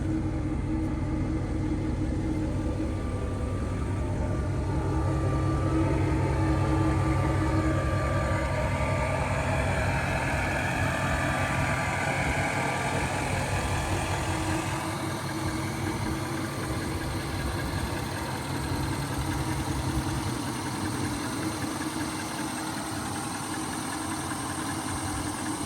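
A 2016 Nissan Titan XD Pro-4X pickup with a tuned Cummins turbo diesel idles close by, giving a steady, loud low rumble with a fast even diesel clatter and no talk over it.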